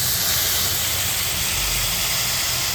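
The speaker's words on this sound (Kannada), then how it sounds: "ಸ್ವಲ್ಪ ವಾಟರ್ ಆ್ಯಡ್ ಮಾಡ್ತಾಯಿದ್ದೀನಿ" Water poured into a pan of frying potatoes and tomato gives a loud, steady, close-up hiss of sizzling that holds evenly throughout with no voices.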